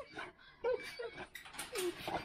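A young puppy whimpers and yips in short, high, wavering cries, several soft plaintive bursts close by in a quiet home room.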